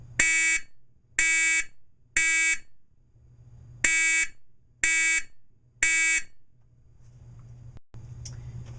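A vintage Simplex fire alarm on 24 volts, sounding a code 3 pattern: six loud, buzzy horn blasts in two groups of three, close by with a low hum between them.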